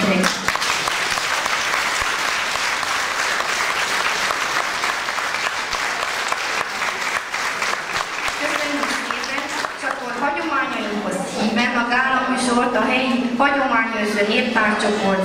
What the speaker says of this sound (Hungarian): nagyon nagy tapsot kérek.